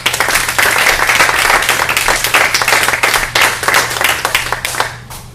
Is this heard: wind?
no